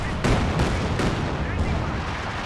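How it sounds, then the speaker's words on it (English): Katyusha rocket artillery pounds the ground in a Company of Heroes 2 match, a dense barrage of heavy thuds and explosions arriving in quick succession, loud and continuous. "Try and dodge the artillery."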